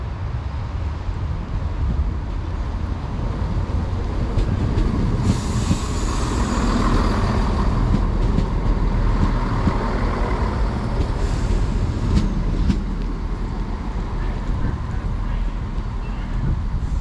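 Class 170 two-car diesel unit, ex-West Midlands Railway, idling and rumbling at Newark North Gate station, a steady loud engine drone with brief hissing bursts over ambient platform noise.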